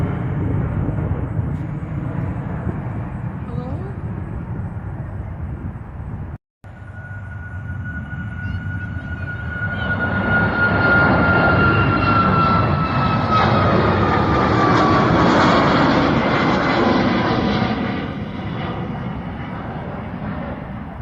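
Loud, continuous roar of a JetBlue airliner taking off at Fort Lauderdale-Hollywood International Airport, with the engine whine rising and swelling midway; a brief cut interrupts the steady noise.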